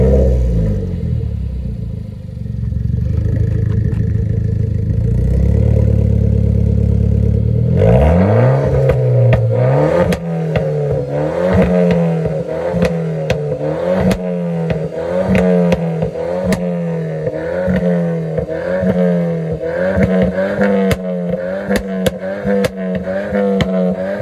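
A Renault Clio 4 RS automatic with a full straight-pipe exhaust idles loudly and close at first, then revs in a long series of sharp, repeated blips with crackling pops between them.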